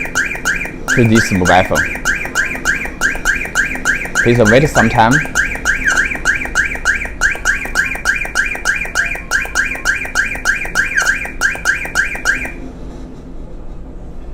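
A Bluetooth car alarm siren, running without a SIM card, whoops in a fast repeating warble for about twelve seconds, loud and close, then cuts off; a recorded phone voice speaks over it briefly.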